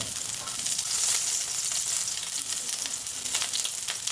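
Garlic sizzles in hot oil in a kadhai, a continuous bright hiss and crackle that holds close and loud with no pauses.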